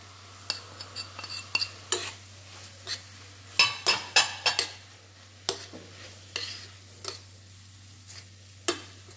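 Ground-meat kofta browning in a pan with spices, a spoon scraping and clinking against the pan in irregular strokes over a faint steady sizzle, no talking.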